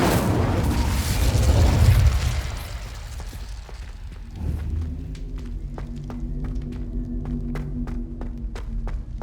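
An Incendio fire spell goes off in Hogwarts Legacy: a loud, low roaring whoosh that swells for about two seconds and fades, then a quieter hum with scattered light clicks and steps.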